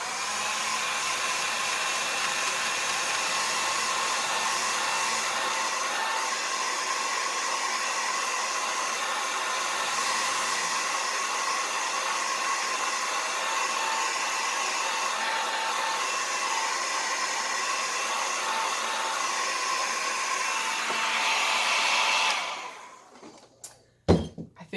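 A hair dryer blowing on a wet finger painting, a steady close whine and rushing air that runs unbroken for over twenty seconds before switching off, followed by a few soft knocks.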